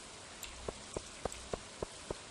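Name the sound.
rain falling in video game Stardew Valley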